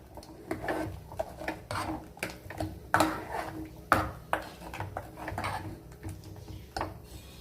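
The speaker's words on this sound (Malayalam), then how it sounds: "ഇപ്പം നമ്മുടെ കറി നമുക്കൊന്ന് ഇളക്കി കൊടുക്കാം." A spoon stirs ripe mango curry in a pot, giving irregular metallic clinks and scrapes against the vessel, some sharp and ringing, spread through the stretch with no talk.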